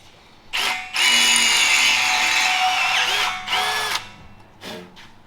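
A power drill fitted with a step drill bit bores through metal while rock sliders are fabricated for a rat rod wrecker truck, giving a short burst and then a long loud whining run with a few brief stops and restarts nearby.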